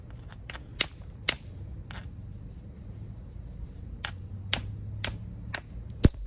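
Sharp isolated clacks of a stone hammerstone striking a stone core during flintknapping, a dozen or so irregular hits spaced out over several seconds, close and crisp with no talk.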